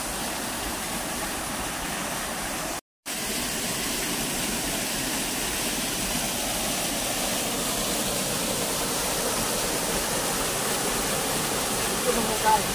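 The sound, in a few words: strong rushing water by the rocks, waterfall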